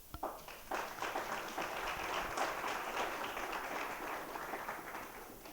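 Audience in a college career Q&A session applauding, a sustained wash of many hands clapping at moderate distance, fairly even throughout with no talk over it.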